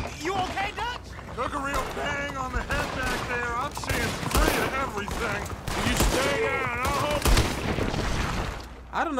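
Gunfire in a Red Dead Redemption 2 shootout, scattered sharp shots popping out beneath near-constant overlapping talk, with a few louder cracks standing out.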